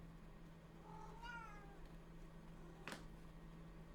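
A house cat gives a drawn-out, wavering meow, fairly faint against a steady background hum, followed by a short sharp click or knock.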